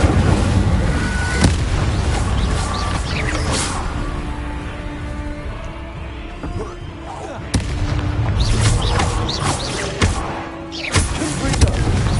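An Incendio fire spell is cast in Hogwarts Legacy, giving booming, thumping blasts in a couple of bursts amid game ambience, with some voice nearby.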